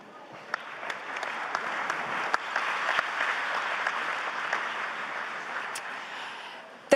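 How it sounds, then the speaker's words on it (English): Applause from the audience at the Ukraine Recovery Conference 2024, a sustained, even wash of clapping in a large hall with a few sharper claps standing out, heard on its own without talk. "we can hear from the applause"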